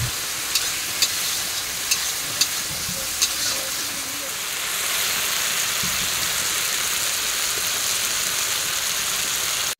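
Spice paste fries in hot oil, giving a steady close crackling sizzle that grows fuller and louder about halfway through, with a few light taps early on.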